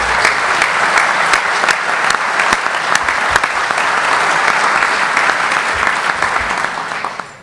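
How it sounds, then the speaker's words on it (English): A large audience breaks into loud, sustained applause for a parliamentarian at a convention simulation, a dense steady roar of many hands that fades out at the end. "So I'd like you to give Spencer, our parliamentarian, a big round of applause."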